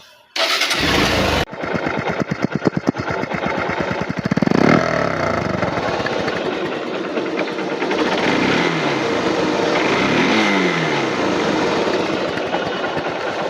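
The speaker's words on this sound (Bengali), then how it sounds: "তো বাইকটা যদি স্টার্ট দিই" A 2022 Hero Hunk ABS motorcycle starts with a brief burst, then settles into a steady, close engine idle that rises and falls slightly with throttle blips and runs loud throughout.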